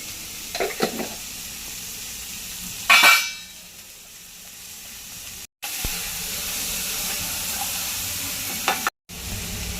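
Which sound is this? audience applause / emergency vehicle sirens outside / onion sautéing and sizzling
onion sautéing and sizzling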